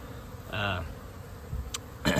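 Honeybees on early-spring cleansing and foraging flights buzz faintly around their hives, a low, thin hum beneath a brief snatch of voice and a couple of sharp handling noises.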